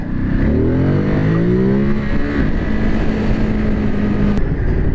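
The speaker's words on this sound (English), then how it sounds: "I love that V-twin sound." A 2022 Ducati Monster 950 motorcycle's V-twin engine revs up loudly and close, its rising harmonic whine sweeping upward before settling into a steady held drone, with no talking.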